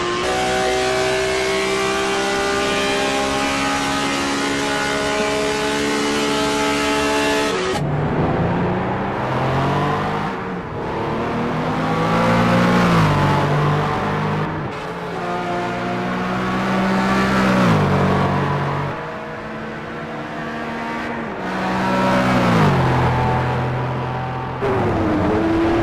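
Onboard engine of a BMW M1 Group 5 in a sim racing video game at Road Atlanta, a loud high-revving note rising and falling through repeated upshifts and braking, with no talk.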